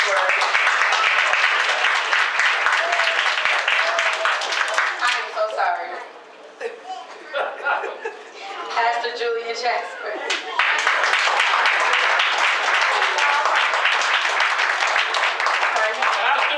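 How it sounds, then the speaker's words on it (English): An audience at a committee meeting gives a round of applause for a minister, loud dense clapping that dips in the middle while someone speaks, then swells back strongly. "Round of applause for Minister Keith Kaiser"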